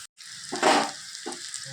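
Catfish pieces fry in hot oil with turmeric, giving a steady close sizzle that swells loudly after a short silence and then settles into continuous crackling frying.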